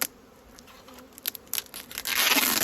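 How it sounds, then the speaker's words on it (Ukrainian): Honeybees around a beehive crawling through a gap in an apiary hive: a faint, thin buzz with brief louder passes, swelling into a steadier, closer hum near the end. "і бджола полізла"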